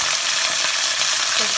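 Green chilies and curry leaves sizzle hard in hot oil, a loud, dense, close crackle that stays constant for the whole short burst as they are stirred.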